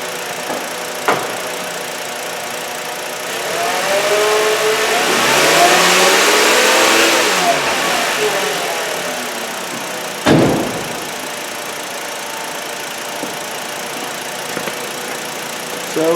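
2008 Volkswagen Beetle 2.5L engine with a charging system issue and a newer alternator: a steady idle that rises smoothly into a sustained rev, holds, then falls back to idle, followed by a thump.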